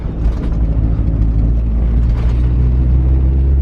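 A Honda CRX's K-swapped engine idles through a full 3-inch exhaust with a heavy, rough rumble, deep and steady throughout, with some mechanical rattling on top.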